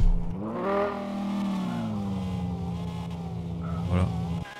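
An expensive car's engine in Car For Sale Simulator 2023 drones loud and steady, a rich harmonic tone that dips slightly in pitch and then rises briefly near the end, alone with no talk.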